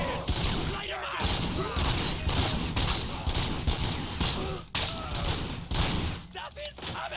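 Rapid gunfire fills a firefight in the video game RoboCop: Rogue City, with dense bursts and thuds hammering on almost without pause, loud and close, while voices shout faintly underneath.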